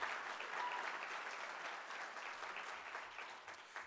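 Applause from a keynote audience, a steady wash of many hands clapping at moderate distance that tapers slightly toward the end.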